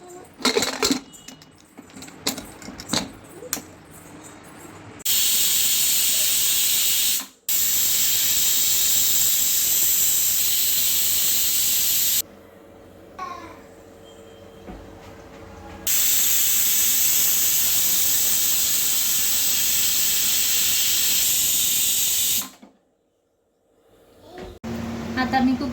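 A pressure cooker on the stove with masala bhat inside lets off steam in two long, loud hissing blasts of several seconds each, after a stretch of clattering and rattling sounds.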